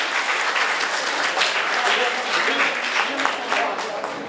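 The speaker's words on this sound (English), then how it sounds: "So very round of applause for the team Avalanche." Sustained applause from an audience at a college hackathon, clapping steadily and fairly close for the full length, with some voices mixed in under the clapping.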